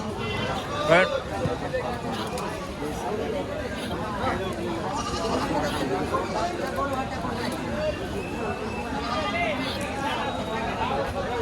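Goats bleating at a livestock market, several calls rising over a dense crowd murmur and chatter, with one louder bleat near the start amid continuous nearby voices.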